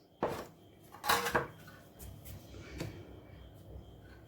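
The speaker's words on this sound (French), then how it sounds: "Donc, je vais découper ma pâte." Mhajeb dough is divided into 90 g portions on a work surface, giving a few close, sharp knocks and clatters of the cutter and scraper, with softer taps between them and no talking.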